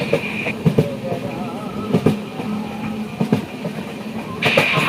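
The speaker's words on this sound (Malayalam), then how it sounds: "ഇപ്പോൾ ഒരു പാടത്തിൻ്റെ സൈഡിൽ കൂടെയൊക്കെയാണ് ട്രെയിൻ പോകുന്നത്" The Ernakulam–Velankanni Express rolls along beside a paddy field, its wheels thumping in irregular clacks over a steady rumble heard from inside a second-class coach, with a brief high whine near the end.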